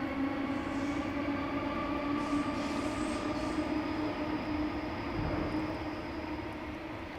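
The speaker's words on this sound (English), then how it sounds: "Another train." A train passes at a distance, giving a faint, steady low rumble with humming tones that fades slightly toward the end.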